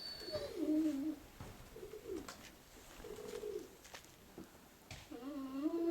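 Pigeons coo in repeated low, rolling phrases, some close and some farther off, with scattered soft rustles and small knocks between calls.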